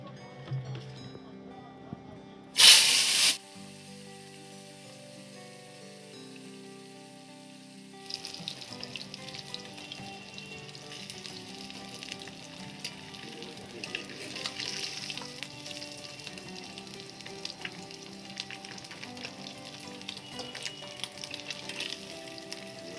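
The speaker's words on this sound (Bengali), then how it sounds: "নুন হলুদ মাখিয়ে তারপরে আমি মাছটাকে সুন্দর করে ভেজে নেব" Snakehead fish pieces rubbed with salt and turmeric fry in oil in a wok. After some kitchen clatter and a brief loud clunk, a continuous, moderately loud sizzle with scattered crackles carries on to the end.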